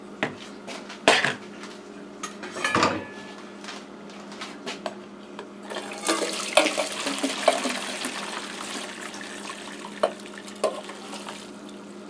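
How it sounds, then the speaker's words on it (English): Noodle water is drained from a pot into a bowl, with clattering pot and utensil knocks followed by a sustained pouring, splashing rush of liquid, close and moderately loud with no talking. "Now I'm going to drain all of the water out, but I'm actually going to save some of the broth in a bowl."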